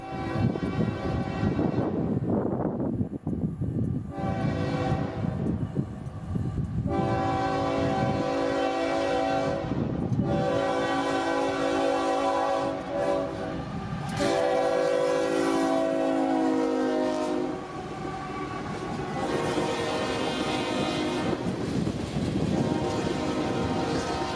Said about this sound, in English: This is NO52, a loaded coal train out of Oaktown, Indiana to interchange on the Florida Northern Short Line in Newberry